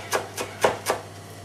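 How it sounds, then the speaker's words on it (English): A knife chops a tightly bunched handful of parsley on a board: four crisp, evenly spaced close-up strikes with a brief hush between each. "So here we start, have the parsley all bunched together. It's fairly tight, so we're going to begin the chopping process now."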